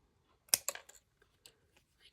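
Scissors cut through a thrifted art piece, making a few quick, close snips and small rustles of paper or board, then quiet handling noises.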